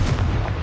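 A short, loud, booming explosion from the Confringo spell in the video game Hogwarts Legacy, a single heavy burst with a rumbling low end.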